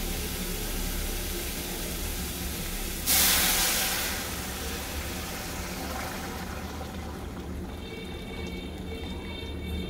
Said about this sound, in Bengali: এবার আমি এতে দিয়ে দিচ্ছি তরকারিটা।